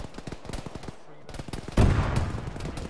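Autocannon fire in the ArmA military video game plays as rapid, evenly spaced shots, then a much louder, heavier burst of sustained gunfire takes over in the final second or so.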